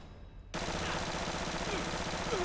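A PPSh-41 submachine gun fires in Fallout 4, a sudden loud sustained automatic burst that starts after a brief quiet moment and rolls on steadily without pause.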